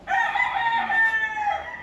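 Chickens cackle and cluck agitatedly up close, a loud, continuous, squawking flock sound with no talking over it.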